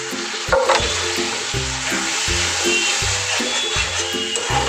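Spices sizzle and fry steadily in a pan as a splash of water goes in, a close, continuous hiss with low rhythmic knocks of a utensil stirring through it.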